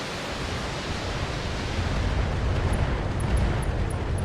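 Artillery vehicle blowing up in the BattleTech video game: a broad, roaring rumble of explosion noise that swells louder midway and holds steady, dense and sustained with no talk over it.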